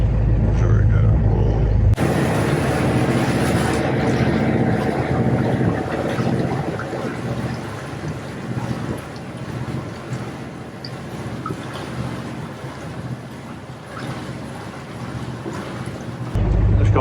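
A boat under way on the water, a steady loud rumble of engine and rushing water with wind buffeting the microphone, continuous throughout.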